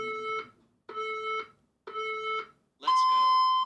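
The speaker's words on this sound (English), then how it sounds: "Let me start the timer." A workout interval timer beeps as it starts: three evenly spaced short beeps, then a longer, higher beep, loud and clear with no talking over it.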